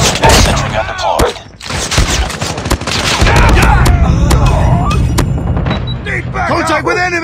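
Sustained automatic fire from a deployed sentry gun in Call of Duty: Mobile, loud and continuous with heavy bursts and booms, mixed with in-game voice callouts.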